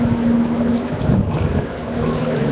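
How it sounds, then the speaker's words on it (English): Wind blows across an outdoor bowls green, making a steady, loud buffeting rush with a low hum underneath, with no other sounds standing out. "The wind's getting up a bit as well."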